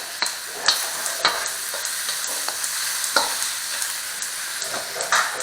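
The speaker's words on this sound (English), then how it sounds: "careful the onions, careful, half ad. Nearly burning the onions." Onions frying and sizzling in a pan for Hungarian lecsó, nearly burning: a loud continuous sizzle with repeated scraping stirs and clacks of a utensil against the pan, close up, with no speech.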